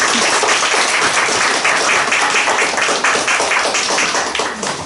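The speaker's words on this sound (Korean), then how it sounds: "우리 감사와 영광의 박수 한번 올려드리면" A church congregation applauds together at a year-end Sunday service, a dense, steady wash of many hands clapping loudly for about five seconds, with no talking over it.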